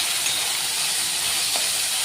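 Pavta (field bean) seeds and brinjal pieces roasting in a pan give a steady, even hiss and sizzle with no pauses, close and constant and heard alone.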